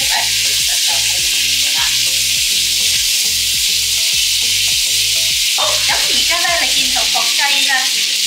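Chicken thigh and wing pieces sizzle loudly and continuously in a hot pan, with steady crackling frying close by while someone talks over it.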